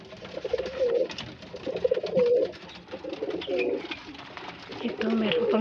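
Pigeons cooing near a nest with eggs, repeated soft throaty coos in uneven bursts, close by, with occasional faint rustling between calls.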